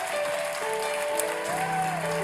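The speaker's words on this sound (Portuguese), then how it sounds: "Acho que você podia dar um aplauso ao Senhor." Steady crowd applause at a church service fills the whole stretch, dense and even, with a few tonal hums or musical notes sustained underneath.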